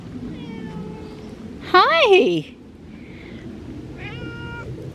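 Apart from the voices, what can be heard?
cat meowing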